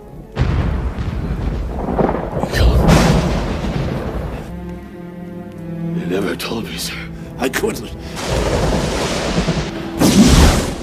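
Rumbling thunder booms, as in a film sound effect after lightning strikes, rolling loud and low beneath and between short lines of dialogue.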